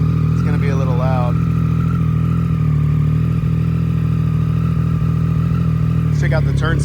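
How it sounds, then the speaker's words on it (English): A 2018 Triumph Street Triple 765 RS engine runs at a loud, steady idle after a cold start, close and continuous, with someone talking briefly over it near the start and end. "Cold start, so it's going to be a little loud."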